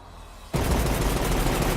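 After half a second of low rumble, a dense, loud barrage of rapid gunfire erupts and continues without pause, the overlapping shots blending into a continuous roar in an action movie trailer.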